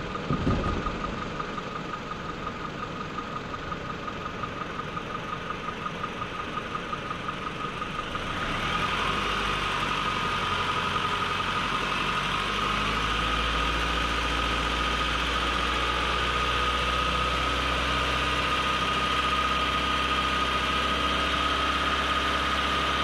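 A car engine idles steadily, then is held at about 2000 rpm, the hum rising to a higher, louder, sustained drone partway through while a charging-system voltage check is done; no one speaks.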